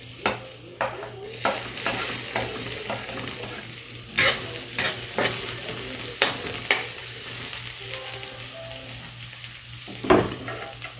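Onion and garlic sauté in a pan with a steady sizzle, while a utensil taps and scrapes the pan at irregular intervals, close and clear.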